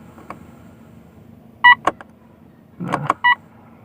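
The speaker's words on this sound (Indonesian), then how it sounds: "Alarmnya kita onin." A few short electronic beeps and chirps from the alarm of a 2021 Mitsubishi Xpander Cross Premium, spaced irregularly, over a low steady hum in a quiet setting.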